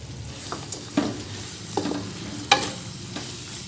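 Sliced carrots being stirred in a pan on low heat for Chinese chicken and vegetable biryani, a few distinct scrapes and clinks of the spoon spaced about a second apart over a soft background hiss, with no voices.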